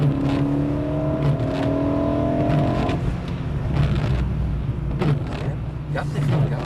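A BMW M3 E92's engine pulls hard under gentle throttle, its rising note sweeping upward for a few seconds before settling into a rougher drone, recorded from inside the car with some talk over it.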